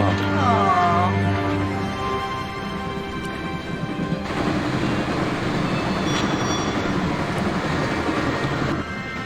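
A moving train in Broken Sword rumbles steadily and loudly for about nine seconds, with a low clattering drone and a metallic squeal early on before the texture shifts midway.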